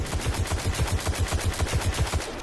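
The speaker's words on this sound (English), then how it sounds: "It's kind of a mid rate of fire auto rifle." Rapid automatic gunfire from the Khvostov auto rifle in Destiny, a steady mid-paced burst of shots fired in close succession, loud and continuous for the whole stretch.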